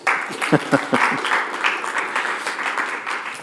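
A short burst of scattered hand claps at the close of a conference presentation, a few sharp claps near the start settling into steady, moderate applause from a small audience.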